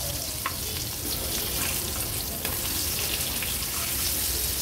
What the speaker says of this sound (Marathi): एक बाजू व्यवस्थित तळून घेऊया आपण